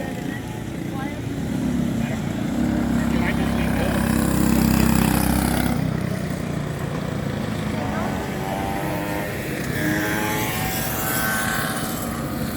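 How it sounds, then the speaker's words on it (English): Buzzing small engines of kid karts racing at a motorcycle speedway, a continuous droning whine that swells and fades as they pass, with an announcer talking over it. "Kid kart is on track."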